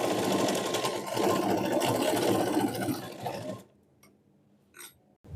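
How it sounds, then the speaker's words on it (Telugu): A sewing machine runs steadily, stitching the folded edge of a lehenga crop top, a dense whirring rattle for about three and a half seconds before stopping, followed by near silence with a few faint clicks. "ఈ ఎడ్జ్ చివరి వైపున మరో స్టిచ్ వేసుకుందాం"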